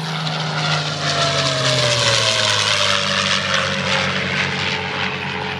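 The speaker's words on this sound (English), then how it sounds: "You can hear the supercharger whining, can't you?" A P-51 Mustang propeller fighter flies past, its loud engine roar swelling and holding steady with a rising supercharger whine and a falling pitch as it passes close by, with no voices.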